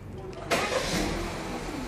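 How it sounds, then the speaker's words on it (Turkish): A Peugeot 3008 car engine cranks and catches abruptly, then settles into a steady, fairly loud idle with a broad rumble that continues to the end. "Çalıştırın arabayı."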